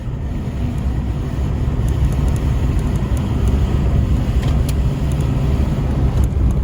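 A car climbs the mountain road toward Doi Inthanon with a steady low engine and road rumble from inside the cabin, continuous and fairly loud with faint ticks above.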